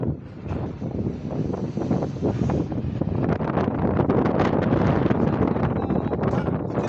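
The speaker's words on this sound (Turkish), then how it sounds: "Acayip rüzgar var ya." A steady, forceful wind rumbles and thrashes against the microphone without a break, building slightly louder as it goes.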